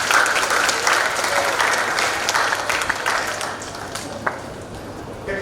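An audience at a parents' meeting breaks into sustained, hearty clapping for a grandfather, dense and close at first, then thinning slightly toward the end.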